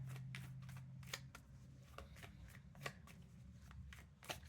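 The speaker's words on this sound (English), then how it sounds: "Let's go ahead and pull a couple more cards from this deck." Tarot cards are shuffled and pulled from a deck, giving quick close riffling flutters and soft slaps in a steady series, quiet and unaccompanied by talk.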